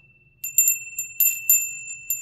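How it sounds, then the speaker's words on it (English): A small brass bell rings in several quick, bright strikes at uneven intervals, each leaving a clear sustained tone, close and alone in a quiet room. "This is a little brass bell."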